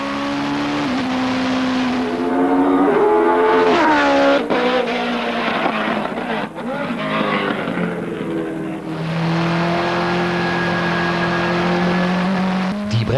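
A BMW 320 race car with a Judd V8 screams through gears on a hillclimb course, its engine note rising and dropping with sharp downshifts and throttle blips, loud and close, no talk.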